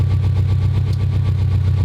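A rebuilt Subaru EJ207 engine in an STI idling after its first start, a steady, even low rumble close to the listener with a smooth, unchanging rhythm.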